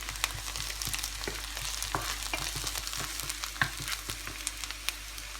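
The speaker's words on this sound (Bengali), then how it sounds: "এখন এটাকে একটু হালকা বাদামি কালার করে ভেজে নিব দেখুন পেঁয়াজটা হালকা বাদামি রঙ হয়ে গেছে" Chopped onion frying in a pan until light brown, a steady sizzle with intermittent scraping and stirring clicks, close and continuous with no talk.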